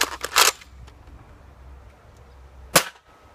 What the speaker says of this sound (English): That shot also hit the wall.